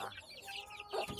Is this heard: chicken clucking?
yes